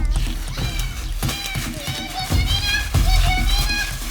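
Several high, drawn-out cat meows rise over a busy, noisy background with low thumps and voices.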